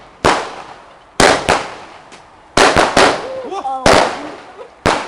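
Firecrackers going off outdoors on Bonfire Night, a string of sharp loud bangs in irregular bursts, with a few voices exclaiming between them.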